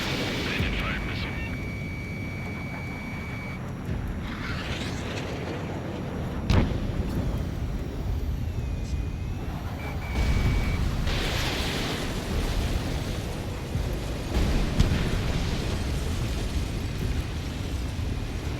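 Enemy missile fire and explosions in Ace Combat 7 aerial combat: a sustained roar of jet and battle noise with sharp bursts and booms scattered throughout, under radio chatter.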